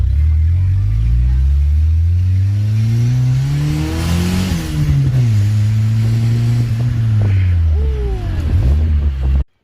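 A turbocharged Honda Del Sol engine running lean revs up and down several times, close and loud, its pitch climbing and falling in smooth sweeps before cutting off abruptly.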